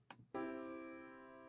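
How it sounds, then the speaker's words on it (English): A major chord struck once as an ear-training example in a beginning music theory lab, after a small click, ringing out clearly and sustaining with a slow, gentle decay, heard alone. "A major chord will sound like this."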